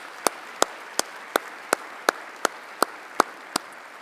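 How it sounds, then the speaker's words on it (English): About ten sharp claps at a slow, even beat at an ethics awards event, crisp and close, like a single pair of hands clapping steadily, with no talking. "how about a nice round of applause for all those great people to make today possible."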